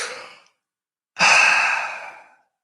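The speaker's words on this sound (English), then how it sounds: "Let's all breathe." Deep recovery breaths are taken between breath-hold training rounds: a short breathy exhale fades out, and after a pause comes a long, loud, close inhaling sigh. There is no talking.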